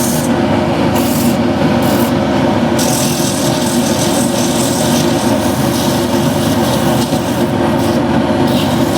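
A wooden piece spins on a lathe while 180 grit sandpaper is held against it, giving a loud continuous rushing hiss over the steady hum of the machine.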